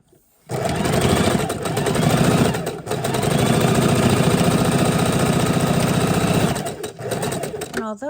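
A sewing machine stitches a quilt seam in a loud, steady motor whir with brief slowdowns, starting after a short pause and running close up for most of eight seconds.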